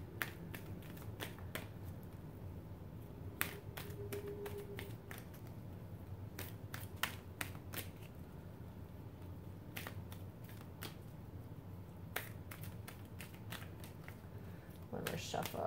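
Crisp, rapid riffling bursts of oracle cards being shuffled, repeated in several short clusters with pauses between, close by, over a low steady background hum.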